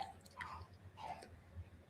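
A pet chews noisily nearby, with a few quiet, irregular wet crunching and smacking sounds against a faint background.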